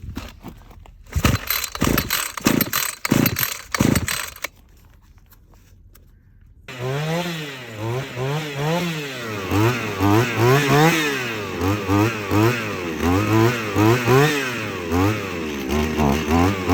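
A Shindaiwa T270 string trimmer with a newly replaced carburetor is pulled several times in rapid rasping bursts, then fires and runs loud and strong, its small two-stroke engine buzzing and rising and falling in pitch.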